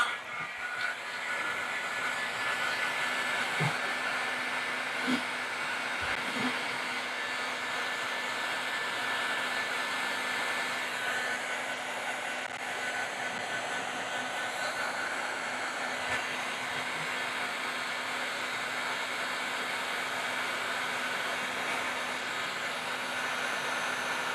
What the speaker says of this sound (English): So I'll get a little bit of a heat onto it, heat gun.